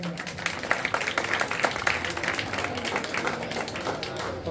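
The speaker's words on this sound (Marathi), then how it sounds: "जोरदार टाळ्या झाल्या पाहिजेत" An audience at a hypnotism show in Umbraj claps in sustained, dense applause with many hands, while a voice carries over it.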